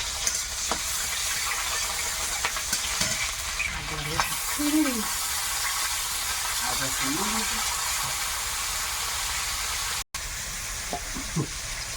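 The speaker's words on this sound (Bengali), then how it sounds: "পাঁচ ফোড়ন তেলে রসুন কুচি কাঁচা লঙ্কা আর একটু পেঁয়াজ" Panch phoron spices, chopped garlic, green chili and onion frying in oil for a country chicken and dried shrimp dish, a steady sizzle with stirring clinks and some background voices.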